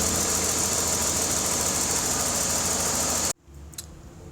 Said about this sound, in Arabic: لاحظين صوت الار بي ام كيف تغير؟ هذا لان معناه في فاكيوم ليك.